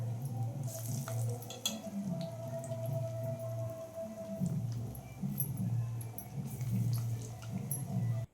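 Parupu vadai, masala lentil fritters, deep frying in hot oil, giving a steady close bubbling and crackling sizzle with soft wet pops throughout, no voices.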